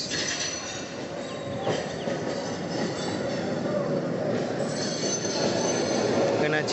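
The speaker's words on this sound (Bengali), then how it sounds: "রাজধানী এক্সপ্রেস" Rajdhani Express passenger train on the Howrah–Barddhaman line in eastern India running past close by, a loud continuous rumble of rolling wagons with steady wheel and rail noise and brief metallic squeals throughout.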